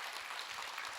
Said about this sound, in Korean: 박수를 많이 주세요.